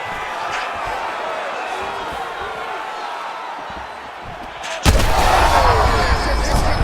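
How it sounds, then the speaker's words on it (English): Punches and kicks land in EA Sports UFC 5 during a Paddy Pimblett vs BJ Penn bout, with dull impacts over a steady arena crowd roar and a sudden louder burst of hits and noise near the end. "he lands another strike to the body, really starting to connect on a lot of shots to the midsection"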